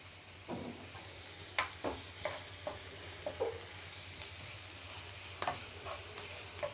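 Curry leaves fry in a pan of onion samosa filling, a soft continuous sizzle broken by repeated scraping strokes of a spatula stirring the mixture.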